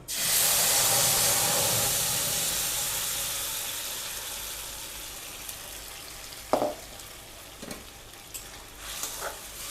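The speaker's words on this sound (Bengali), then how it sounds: "এবারে দিয়ে দেবো বাটা টমেটোটা" Ground tomato paste hits hot oil in a pan for a tomato and date chutney, bursting into a loud hissing sizzle that slowly fades, followed by a few close scrapes of a stirring spoon, no talk.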